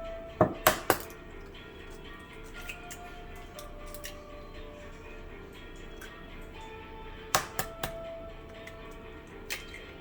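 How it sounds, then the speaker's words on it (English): Several sharp cracks of eggs against a mixing bowl, a quick cluster near the start and another pair later, close and crisp over a quiet kitchen. "just crack 4 eggs into your mixing bowl"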